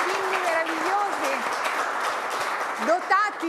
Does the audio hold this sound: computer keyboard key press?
no